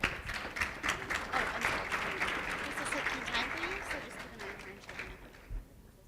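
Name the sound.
audience applause for the presenters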